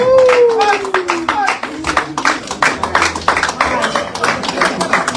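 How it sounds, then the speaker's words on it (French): Clapping at a press conference for a rumba singer's concert, sharp close handclaps in an irregular burst with voices talking over them. "je vais vous demander que vous fassiez un tonnerre d'applaudissements pour cette légende vivante de la rumba"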